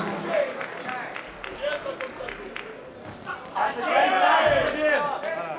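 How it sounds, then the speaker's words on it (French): A crowd at a boxing event claps and cheers, with shouts rising over a steady roar of applause that swells louder toward the end. "quelques applaudissements, quelques encouragements"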